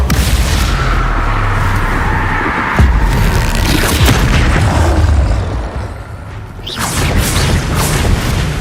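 Explosive spell blasts in Hogwarts Legacy sound as loud, continuous booming bursts with crashing impacts, a sharp blast near three seconds and another after a brief lull near seven.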